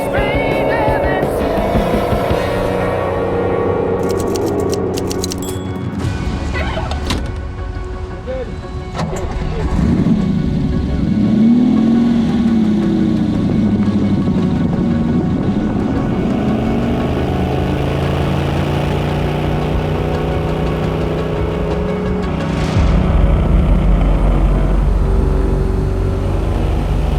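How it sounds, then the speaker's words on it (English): A 1970s Maserati supercar engine revving and accelerating on the road, with the note rising and falling through gear changes, heard from inside the car with someone talking over it at times. "It accelerates beautifully. Great engine sound."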